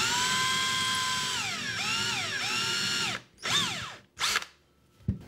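A power drill whines at high pitch, its motor sliding down in pitch as it bites into a slip-casting mold set on wood, followed by several short bursts of drilling with pauses between.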